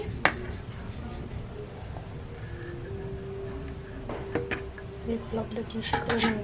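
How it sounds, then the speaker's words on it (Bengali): Cake batter being mixed in a bowl, with repeated scraping and clinking of a utensil against the bowl, fairly close and steady, growing busier toward the end, with a faint background hum. "এবার আমি মিক্স করে নিচ্ছি"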